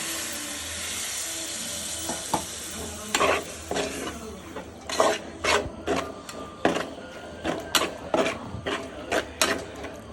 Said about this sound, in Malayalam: മസാലയൊക്കെ നല്ലതുപോലെ തിളച്ച് കേട്ടോ